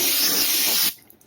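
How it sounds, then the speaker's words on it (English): Brake parts cleaner sprayed from a pressurized aerosol can while cleaning a 1992 EG hatchback: one steady, loud hiss lasting nearly a second, then it cuts off sharply and only quiet background remains. "And we'll just use a little help. Brake parts cleaner."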